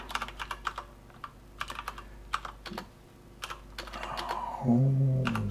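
Keys clack on a computer keyboard in short irregular bursts of close, crisp taps with pauses between, ending in a louder rustle or shift near the end.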